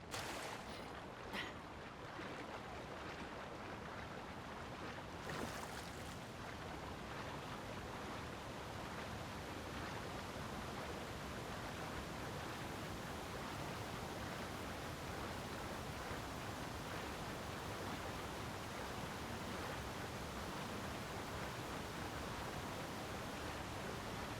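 A waterfall in The Legend of Zelda: Tears of the Kingdom roars with a steady, dense rush of water that stays close and loud for the whole stretch, without a break and with no voices.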